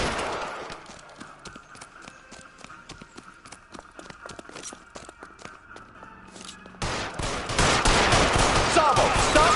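Gunshots ring out in L.A. Noire, a steady run of sharp cracks through the first part, then a denser, louder burst of firing near the end over game noise.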